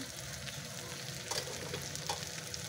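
Ground spices—salt, turmeric, chili, coriander and cumin powder—frying in oil in a pan, a steady close sizzle with soft stirring scrapes throughout.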